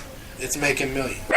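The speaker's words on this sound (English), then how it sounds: "She hears something going on, so she's barking a little bit." A dog barks a few times close by while someone talks over it.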